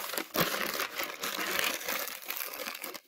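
Paper being crumpled by hand for a small papier-mâché piece, a continuous close crinkling and crackling with brief louder crunches, no voices.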